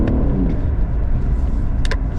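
An Infiniti Q50S Hybrid car with a traction and launch fault drops power and then surges again, heard as a loud rumbling engine and road drone that dips briefly before pulling back up, recorded from inside the car.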